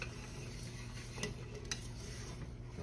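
A spoon stirs cornstarch and milk in a pot on the stove for a lemon dessert, giving a continuous soft scraping and swishing with a few small clinks against the pot.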